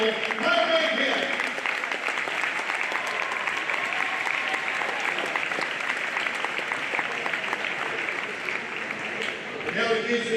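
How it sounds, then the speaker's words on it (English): A packed gym crowd at a high school boys' basketball game, Walla Walla High against Richland, gives a big, steady round of applause that runs dense and loud for about ten seconds, with voices mixed into the clapping. "one big round of applause"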